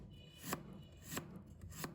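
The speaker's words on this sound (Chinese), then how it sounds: "然后改刀切成姜丝，最后切成姜末" A knife chops fresh ginger into fine mince on a board for a spicy lemon chicken feet dish, three distinct sharp chops spaced evenly over a low hum, no voices.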